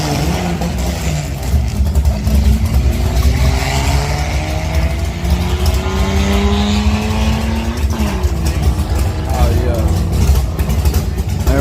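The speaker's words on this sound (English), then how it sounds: "Dragster again." A dragster at a Texas street drag race revs and accelerates, engine pitch climbing in sweeping rises over a loud rumbling background, with crowd voices talking over it.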